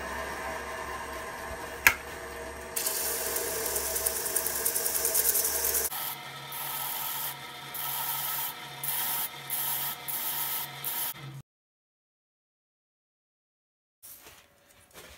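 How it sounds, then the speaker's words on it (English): A power drill spins 220-grit sandpaper on a sanding arbor, sanding the nub off the bottom of a turned natural-edge wooden goblet; loud steady abrasive whirring and rubbing in bursts, then it stops and goes silent, with faint handling noise near the end. "I got 220 sandpaper just chucked up in the drill chuck on one of my sanding arbors."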